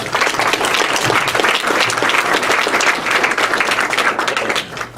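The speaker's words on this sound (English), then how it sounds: "Round of applause." Loud, sustained applause from an audience at a live talk, many hands clapping in a thick continuous crackle that tapers slightly at the very end.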